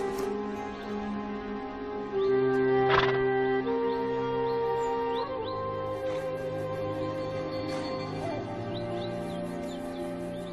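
Yakut horses in deep Siberian snow at extreme cold, with a clear neigh or whinny rising near the start among steady tonal calls and a few brief bird-like chirps, fairly distant and no talk.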